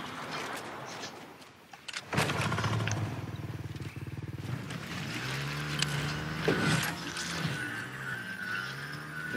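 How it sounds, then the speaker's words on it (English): A motorbike engine in the video game Fortnite revs and drones steadily after a brief quiet moment, with shifting pitch as it accelerates, loud and close throughout. "Oh, it's a motorbike. It was a motorbike."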